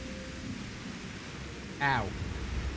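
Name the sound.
pouring rain with thunder in a video game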